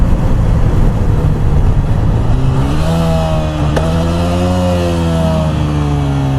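A TVS Apache RTR 160 4V motorcycle cruising at speed on a highway, its engine drone loud and steady with a rising, revving pitch under heavy wind rush, no voices.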